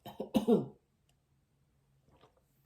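A woman gives a few deliberate coughs in quick succession, close and clear, followed by near silence and a faint throat sound at the end.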